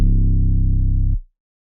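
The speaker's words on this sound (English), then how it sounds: "Just give this a tiny little bit of flange" Vocal sample with a light flanger effect, part of a UK drill melody, holds a low sustained tone with a rhythmic wobble for about a second before cutting off abruptly, loud and alone.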